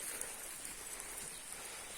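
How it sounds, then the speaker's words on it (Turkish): Heavy rain pours steadily as a dense, even hiss with no breaks, outdoors among fruit trees, fairly faint and with no one talking. "bayağı bir yağmur yağıyor burada"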